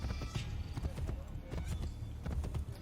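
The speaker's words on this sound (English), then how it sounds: "We really gotta train this horse in not running people over" Horse hooves clip-clop in a quick, steady rhythm in Assassin's Creed Brotherhood as the horse runs through a crowd, with faint voices in the background.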